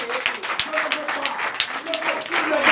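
A church congregation at a Sunday service in Comè, Benin claps and acclaims, irregular clapping mixed with raised voices and shouts throughout.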